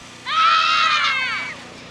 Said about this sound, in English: let's have everybody scream for practice